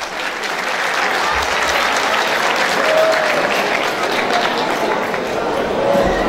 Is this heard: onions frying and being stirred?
no